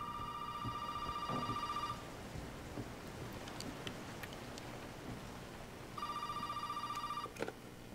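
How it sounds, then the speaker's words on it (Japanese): A telephone rings in the video game Resident Evil 7: two bursts of a steady electronic ringtone separated by a pause, set over a quiet bed of rainfall with faint distant rumbles. "あ、電話だ。"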